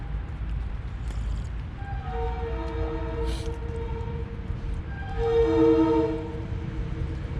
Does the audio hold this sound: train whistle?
yes